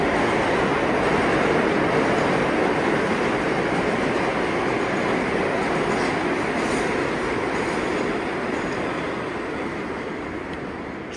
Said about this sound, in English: now let's go ahead and enter the subway station